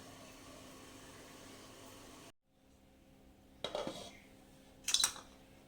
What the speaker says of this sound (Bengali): কিছুক্ষণ ঢাকনা চাপা দিয়ে দিব।